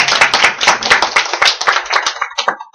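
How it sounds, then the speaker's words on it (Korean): An audience at an indoor meeting breaks into a short burst of lively applause, many hands clapping close and bright, then thinning out into a few scattered claps at the end. "박수 다시 한번 부탁드리겠습니다."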